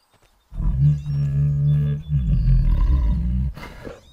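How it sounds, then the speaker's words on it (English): A saber-toothed tiger in the Ecos: La Brea video game lets out a low, rumbling growl-roar, close and loud, in two long sustained bursts with a short break between them. "We also hear a low rumbling sound coming from the saber."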